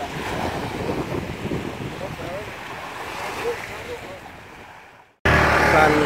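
Surf and wind along a beach at Karimunjawa, a steady roar of waves and gusty wind noise on the microphone, cutting to silence near the end before loud wind returns.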